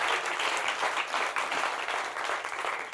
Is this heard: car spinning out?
no